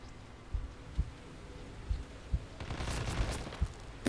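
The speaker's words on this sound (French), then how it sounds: "Ça tire de très loin là" Distant gunfire in the Hitman video game: scattered faint shots at irregular intervals, low and muffled over a steady background rumble, with a brief denser burst near the end.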